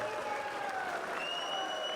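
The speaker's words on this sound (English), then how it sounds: "could we please have a big round of applause for both of our" A boxing crowd applauds after a professional fight, dense clapping mixed with whistles and cheers at steady loudness across the whole moment.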